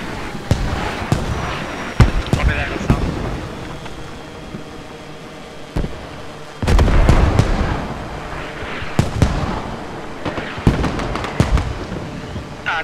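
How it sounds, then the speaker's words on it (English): Mortar and hell cannon artillery in the military shooter Squad booms and cracks in irregular bursts, some sharp and near and others rumbling further off, over a constant background rumble. "Mortars and hell cannon."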